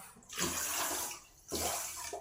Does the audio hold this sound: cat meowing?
no